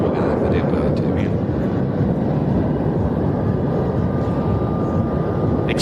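Aerobatic airplane at a general aviation airshow in Saudi Arabia making a low-altitude pass for an aileron roll, a steady loud engine drone filling the whole stretch under heavy outdoor rumble.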